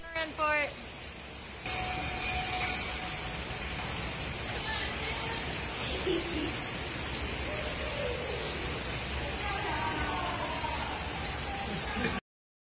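Steady rain falls with a constant hiss, and faint chirps and other small sounds come and go beneath it.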